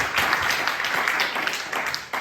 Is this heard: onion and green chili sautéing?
no